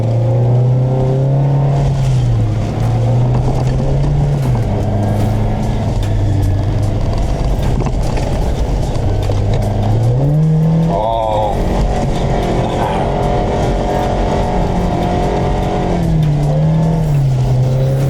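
Toyota Fortuner or Hilux with a 2-litre engine, loaded around three tonnes, driving on sand dunes, its engine droning and rising with throttle changes, loud and close amid constant wind and cabin rumble.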